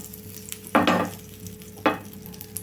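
A small piece of butter crackles in a hot pan, with two short bursts of sizzling and scraping as it is stirred and spread, close by over a quiet background hum.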